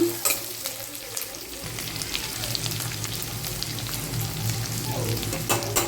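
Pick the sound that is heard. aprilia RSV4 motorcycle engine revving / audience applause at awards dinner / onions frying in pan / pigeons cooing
onions frying in pan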